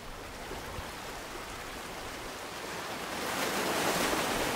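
Sea waves wash and break on Guhagar beach on the Konkan coast at sunset, a continuous roar of surf that swells louder toward the end, with no talking.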